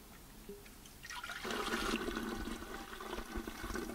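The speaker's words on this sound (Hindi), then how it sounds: "सबसे पहले अपन ने मटका लिया और उसमें 10 लीटर एक गौमूत्र डालेंगे इसमें।" Ten litres of cow urine pour into a clay pot, a close, steady gush of liquid that starts after a second and runs on to the end.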